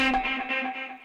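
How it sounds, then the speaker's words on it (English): Electric guitar run through an Electrum plugin with delay, ambient reverb and distortion gain, a single sustained chord swelling and slowly decaying in a wash of echo, heard alone. "some delay, some ambient reverb, and a little bit of distortion gain on the back end coming out of the this Electrum plugin right here"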